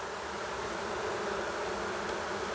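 Steady, dense buzzing of many honeybees fanning at a hive close by, a continuous droning hum with no breaks.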